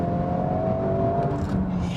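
The new Honda Civic Type R is driven on the road, its engine humming steadily with a tonal drone and a slight rise at the end, close and alone without talk.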